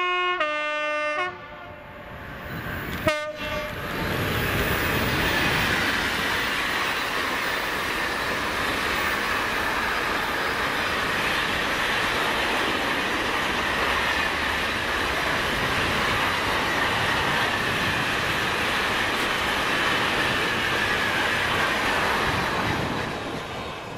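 Class 66 locomotive 66704 in Ukrainian livery hauling a Doncaster to Mossend container freight past, with a loud burst of engine and horn at the start, then a long, steady roar of wagons rolling by.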